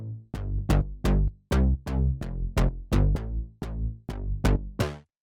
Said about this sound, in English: the next layer we have here is this bass